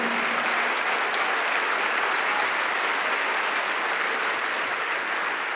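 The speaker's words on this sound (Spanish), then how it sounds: "Denle un aplauso al Señor" Church congregation applauding during a sermon, a dense, steady wash of clapping from many hands that fills the whole stretch at a constant, loud level with no speech over it.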